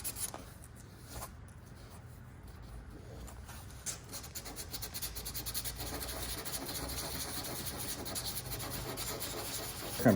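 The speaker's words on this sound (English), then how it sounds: "I'm polishing it." A cured resin repair on a wake surfboard is being polished with a soft, steady rubbing and scratching that grows slightly louder and busier toward the end, heard close up and alone.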